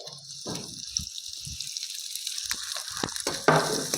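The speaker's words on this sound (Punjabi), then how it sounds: "ਤੇ ਪਿਆਜ਼ ਨੂੰ ਵੀ ਆਪਾਂ ਵਧੀਆ ਜਿਹਾ ਭੁੰਨ ਲਾਂਗੇ" Finely chopped onions frying in a pan with garlic and ginger for an Indian sabji, giving a soft, steady sizzle with scattered spatula scrapes and light clinks.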